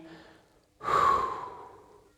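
A single deep breath taken while holding a twisting stretch in a mace HIIT class, a long, close, airy exhale that swells and slowly fades over about a second and a half, with no talk.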